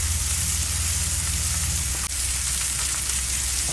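A ribeye steak sizzles on a hot Blackstone griddle, a dense, steady crackling hiss that stays loud and close throughout, with a brief dip partway through and no voices.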